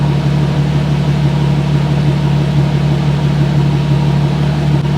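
A Nissan 370Z with a single mass flywheel idles steadily just over 700 rpm, its low engine hum loud, close and even throughout with no talk.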